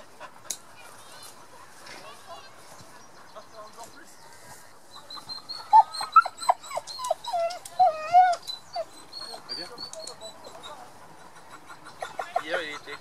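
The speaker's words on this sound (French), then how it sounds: "Excellent chien" A dog making a string of short whimpers, yips and panting noises, loudest in the middle, with quieter rustling and background noise around it.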